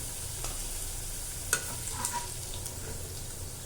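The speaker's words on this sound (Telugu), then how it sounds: "బంగాళదుంపను తీసుకొని ఇలా అడ్డంగా నిలువుగా ముక్కలు కొట్టుకొని వాటిని కూడా ఎర్రగా వేయించుకోండి" Potato pieces fry in oil in a pan for a fish curry, a soft steady sizzle with a few light stirring clicks, heard alone without speech.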